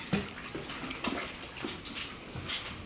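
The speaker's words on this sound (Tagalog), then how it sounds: "Nililiguan din po ni mama itong inahin." Water splashes and washes over a sow being bathed, soft intermittent pours and splashes at low level with faint background noise.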